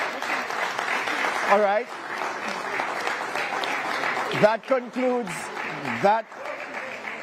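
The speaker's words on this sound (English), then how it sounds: "You can applaud." Audience applause at a televised Jamaican general election economy debate, loud and sustained as the teams shake hands, with a host speaking over the clapping near the end.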